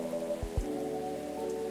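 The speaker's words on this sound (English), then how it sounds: "First time I was here, it was raining as hard as it is now" Soft rain patters steadily in the video game Coffee Talk, a faint, even wash beneath a quiet background music drone, with a couple of low thumps near the start.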